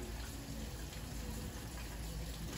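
Continuous rush of warm tap water pouring steadily over tomatoes, a soft even hiss with no breaks and no talking.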